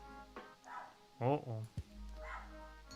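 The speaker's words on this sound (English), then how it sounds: "a dog walking by. A singular dog." A single dog barks once outside as it walks past, a short sharp bark amid a woman's brief reactions and other speech nearby.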